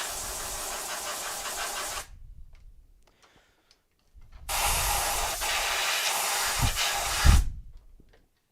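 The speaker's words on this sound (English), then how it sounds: "I'll use compressed air to forcibly remove the rest of it" Compressed air blasts off leftover material during a Gonk droid build: a loud, close hiss runs for about two seconds, stops, then returns in a longer burst with a few low thumps before cutting off.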